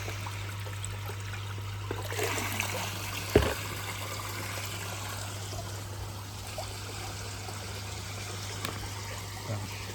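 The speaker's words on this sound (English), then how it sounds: "fill it up with pond water." Pond water poured into a clean bucket, a soft, steady trickle and splash under a constant low hum, with a brief knock partway through.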